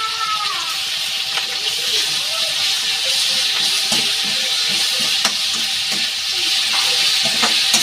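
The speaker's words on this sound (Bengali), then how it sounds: "এই যে ক্যাপসিকাম পেঁয়াজগুলো আমি ভেজে নিচ্ছি" Capsicum and onions fry in a pan for restaurant-style chilli chicken, a dense, steady hiss of sizzling oil up close with faint stirring scrapes mixed in.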